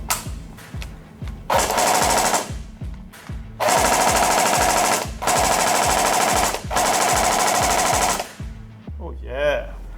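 A Snow Wolf Steyr AUG gel blaster fires in rapid automatic bursts, loud and close, several sustained strings of mechanical clatter separated by brief pauses, with a few single shots at the start.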